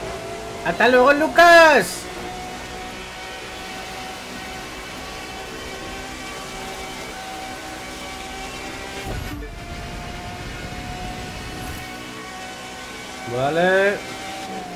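In The Crew 2, a Pagani Zonda R's engine holds a steady, droning tone with strong harmonics, loud and continuous, as someone speaks briefly at the start and again near the end.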